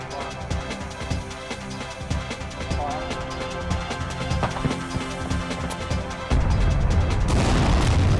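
Demolition explosion bringing down a power station: a deep, loud broadband boom erupts near the end and holds as a heavy rumble, with music playing throughout.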